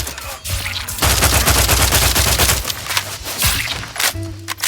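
Loud, close gunfire in a combat scene from The Outer Worlds 2: a dense burst of rapid automatic shots fills the middle, framed by scattered single shots and a low mechanical hum.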